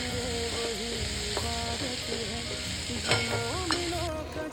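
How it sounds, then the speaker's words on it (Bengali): Boiled chickpeas frying in a pan with onion and chili, a dense steady sizzle with occasional stirring scrapes, close and continuous, with no talk. "এই যে ছোলা ভিজিয়ে রেখে সিদ্ধ করে নিয়েছি, আর একটু পেঁয়াজ লঙ্কা দিয়ে এবার একটু ফ্রাই করে নেবো।"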